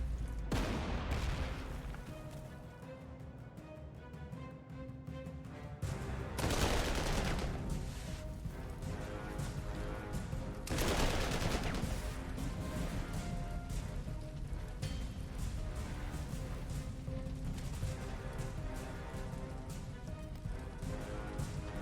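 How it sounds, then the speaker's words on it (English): Artillery bombardment in the video game Panzer Corps 2 rolls on as repeated booming blasts and crackling fire, several dense bursts swelling and fading over a continuous rumble, fairly distant and low in level. "Slam you with artillery, soften you up."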